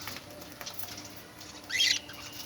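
A short burst of scuffling and sharp chirping from birds fighting inside a home aviary, rising briefly near the end over a quiet background.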